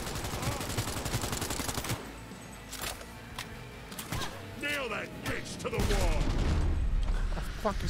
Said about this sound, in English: A light machine gun?